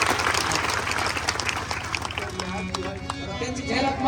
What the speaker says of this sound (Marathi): एकदा जोरदार टाळी वाजवा अर्जुनसाठी